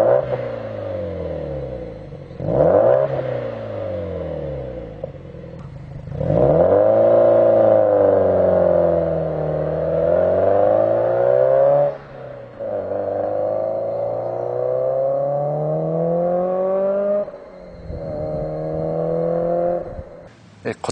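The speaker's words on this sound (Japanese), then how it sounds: "こちらは GDB 用スーパーターボマフラーになります。" A Subaru GDB rumbles and revs through an HKS Super Turbo Muffler with a 75 mm main pipe, rising and falling in several long, loud throttle sweeps separated by brief idle dips.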